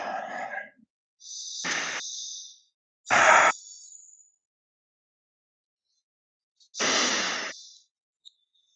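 Slow, deep breaths during a men's shoulder stretching and mobility class: a long exhale, then several separate inhales and exhales with quiet pauses between, close and fairly loud with no talking.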